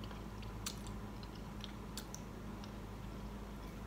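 Soft chewing and a few small crunchy bites of home-cooked baked ziti, close and faint over a steady low hum, with no talking.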